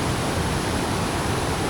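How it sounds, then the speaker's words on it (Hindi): Sikidiri waterfall in the Sikidiri valley pours with a steady, dense broadband rush, loud and unbroken, with no voices over it. "तो ये रहा भाई सब वाटरफॉल"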